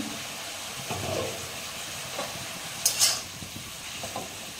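Bottle gourd greens (lau shak) being stirred in a pan, a soft continuous sizzle with a few scraping strokes and one brief sharp clatter near the middle, close and fairly quiet, no speech.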